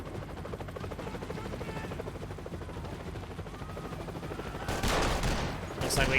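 A helicopter and gunfire in the video game Max Payne 3, with a steady rotor drone and pulsing engine throughout, then loud bursts of automatic fire near the end, mixed in game audio.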